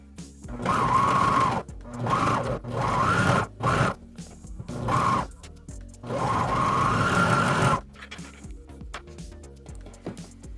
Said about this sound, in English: now that we've serged the bottom and middle edge, our pocket should look like this